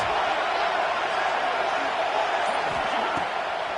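A large football stadium crowd in Alabama roars steadily behind its defense, a dense, continuous wall of cheering at full volume with a commentator's voice faintly under it.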